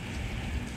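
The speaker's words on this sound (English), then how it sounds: "It's dreary, it's rainy" Steady rain on an early, dreary morning makes a dense, even hiss that fills the short stretch with no breaks.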